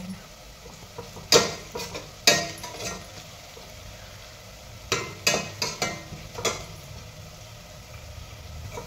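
Chopped onion frying in a pan for chicken biryani, with a steady soft sizzle and several sharp clinks and scrapes as it is stirred.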